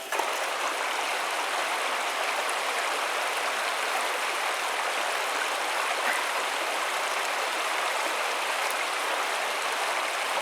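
A stream flows into a lake at a late-fall canoe campsite, making a close, constant bright babbling rush. The flow stays even from start to finish, with no talking.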